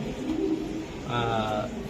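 A Giribaz high-flyer pigeon gives a short, throaty coo up close, with a voice faintly audible in the background.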